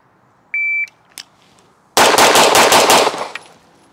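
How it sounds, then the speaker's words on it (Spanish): Six rapid pistol shots from an Atlas Erebus during a timed shooting drill, fired in a quick, loud burst right after a shot-timer beep, with a brief sharp click before the string. "Seis disparos"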